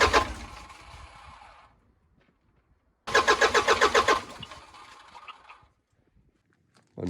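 A work truck's engine cranks in two rhythmic, chugging bursts separated by a quiet gap, fresh injectors fitted, turning over loudly and close but never catching or firing up.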